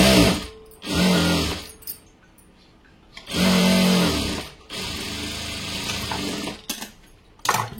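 Sewing machine stitching the side seams of a blouse, joining sleeve, waist, back and front panels, running in several loud bursts of rapid whirring separated by short pauses.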